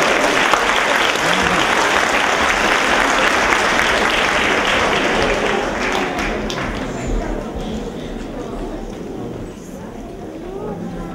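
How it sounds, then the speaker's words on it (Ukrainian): Sustained audience applause at a spring holiday concert, a dense wash of clapping that starts loud and slowly fades over about eleven seconds, heard alone without speech. "Ваші оплески!"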